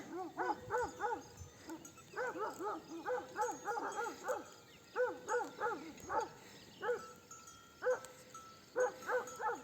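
A shepherd's dog barks repeatedly in quick bursts of two to four, sharp and fairly close, with short pauses between volleys and no talking.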